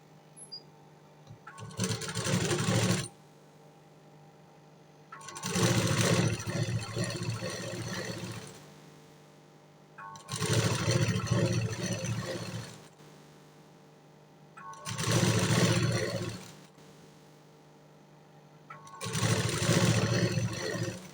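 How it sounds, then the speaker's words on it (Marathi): Sewing machine stitching canvas onto blouse fabric along the waist side, running in five separate bursts of about two to three seconds each with short pauses between, close and steady with a rapid whirring rhythm. "बघा, मी कमरेच्या साईडला शिलाई मारून घेतलेली आहे."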